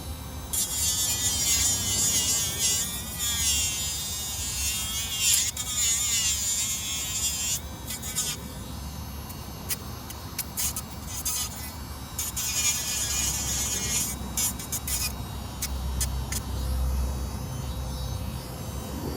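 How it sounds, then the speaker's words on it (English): Small rotary tool grinding soft plastic on a servo mount for a 1/24-scale SCX24 Jeep crawler, a steady high-pitched buzz with shifting pitch as it bites, close and continuous without talk. "So now I'm going to grind this in just a little bit right here."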